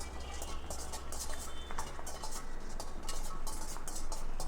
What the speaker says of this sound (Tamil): அடுத்ததாக முந்திரியை வறுத்துக்கலாங்க.